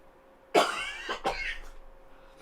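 A single sharp cough rings out close up, followed by a second rougher cough or throat-clearing, in an otherwise quiet room.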